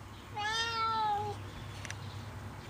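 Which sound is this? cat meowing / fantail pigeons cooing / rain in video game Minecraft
cat meowing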